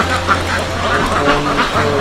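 Dense, continuous quacking from a flock of about 1,500 penned laying ducks on a farm, loud and close with overlapping calls and a low engine-like hum underneath.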